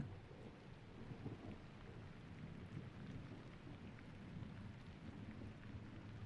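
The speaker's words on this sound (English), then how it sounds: "It starts raining, stops raining, starts raining, stops raining." Steady rain in the horror video game Beneath The Nails hisses continuously with a low rumbling undertone, like a storm heard from indoors, no voices.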